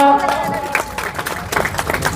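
A crowd at an outdoor political rally claps in a scattered, uneven burst that swells in the second half, heard close and fairly loud, with a voice mixed in at the start.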